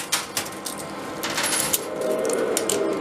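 Coins clatter and drop inside an arcade coin pusher machine, a run of sharp metallic clinks and tumbling spills layered over steady arcade hum.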